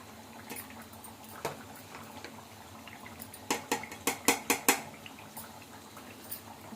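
A spoon scrapes and clinks against a cooking pot while broad bean curry is stirred, a quick run of sharp metallic knocks clustered together, fairly close, with softer taps scattered before and after.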